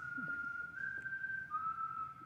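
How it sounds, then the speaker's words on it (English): A single person whistles one steady sustained tone into a microphone, shifting pitch slightly partway through, fairly quiet against a low background hiss. "And this is just me whistling into a microphone."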